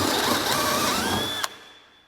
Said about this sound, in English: This is a 1/2" drill bit, so let's go ahead and just pop a couple holes through this 2x4.